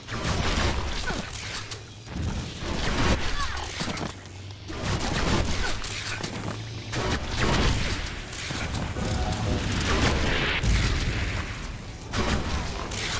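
Enemy gunfire in the action RPG ELEX II: repeated booming shots and whooshing blasts hammer away almost continuously at fairly close range, with a steady low hum beneath and brief dips between volleys.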